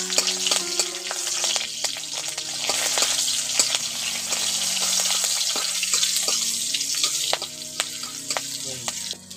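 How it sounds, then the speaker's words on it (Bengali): Black cumin seeds and halved green chillies fry in hot oil as a tempering for a small fish and tomato dish, giving a steady close sizzle with crackling pops and a few stirring clinks throughout. "আর ফোড়নটাকে একটু ভেজে নিচ্ছি।"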